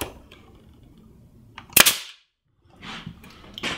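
A pneumatic nail gun drives a nail into the corner of a picture frame made from Windsor casing molding, one sharp loud crack followed by a brief air hiss and small handling sounds.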